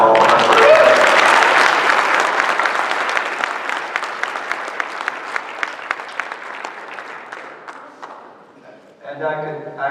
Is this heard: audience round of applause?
yes